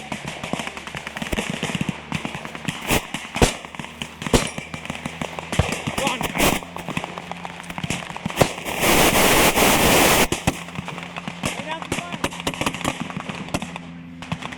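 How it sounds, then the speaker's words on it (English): MG42 machine gun fire across an airfield at a WWII re-enactment, sharp bursts and scattered cracks of gunfire with a sustained loud roar midway, while people talk over it. "There's an MG42 across the airfield."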